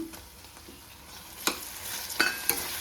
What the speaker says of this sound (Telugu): ఇప్పుడు టమాటా వేసుకుందాం.